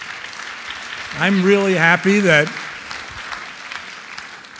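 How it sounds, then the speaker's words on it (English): An audience applauds after a point in a talk on the future of food. A burst of clapping rises and holds for about a second and a half while the speaker talks over it, then fades away. "this one I'm really glad you clapped about"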